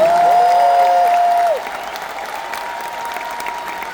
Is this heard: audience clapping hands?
yes